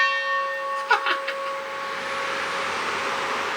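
A train bell on a display train set, rung by hand at a family attraction, gives a few bright clangs close by, with a long steady ringing tone that fades slowly afterward.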